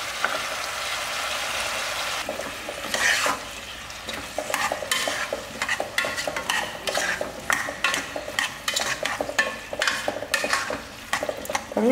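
Pumpkin, mango and brinjal sauté in a pot for South Indian sambar, starting as a soft sizzle before turning into busy, close stirring with repeated scrapes and clatter of a ladle against metal.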